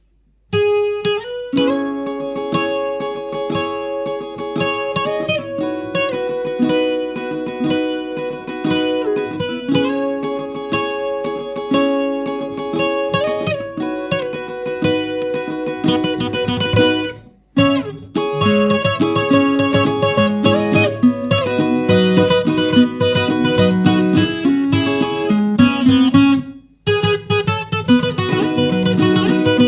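A requinto guitar plays a fast, lively melodic run from a song at normal speed for about thirty seconds, bright and close, with two brief pauses along the way.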